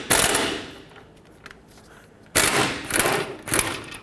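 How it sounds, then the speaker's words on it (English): Air impact wrench zipping out a bracket bolt on a Chevy Express 3500 van, two loud ratcheting bursts near the mic separated by a quieter pause, the second burst choppier and stuttering. "So I'm going to do this one with my air gun"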